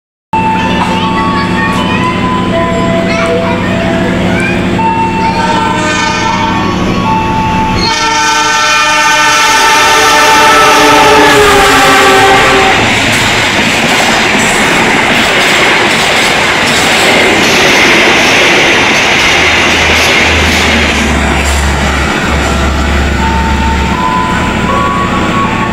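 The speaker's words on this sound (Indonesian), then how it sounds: "Kita nantikan kedatangan kereta api Argo Bromo Anggrek melintas langsung di stasiun" The Argo Bromo Anggrek express train runs straight through Tanjung station with a loud blaring horn, then a close, roaring rush of wheels and clattering carriages going by.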